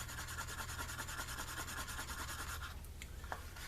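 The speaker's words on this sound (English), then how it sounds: "And I'm going to keep burnishing at these edges" Paper towel rubs briskly along the edges of a black leather holster in fast, even back-and-forth strokes, a soft dry scuffing that repeats quickly and then breaks into a few slower, scattered rubs.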